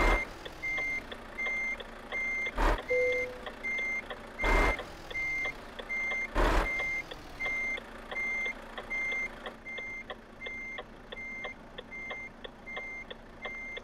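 Repeated electronic reversing beeps from a truck backing up in the Euro Truck Simulator 2 game, steady evenly spaced tones with a low engine hum underneath and a few louder broadband bursts, no talking.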